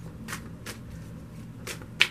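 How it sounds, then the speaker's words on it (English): Tarot cards shuffled by hand in four quick riffling bursts, close and soft, with a faint steady hum beneath. "I'm just gonna shuffle for a minute"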